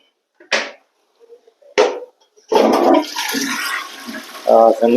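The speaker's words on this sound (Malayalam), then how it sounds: "നമുക്കൊന്ന് ഫ്ലഷ് ചെയ്ത് നോക്കാം" A couple of sharp knocks from the flush control of a European-style toilet come first, then a loud close rush of water as the cistern empties into the bowl.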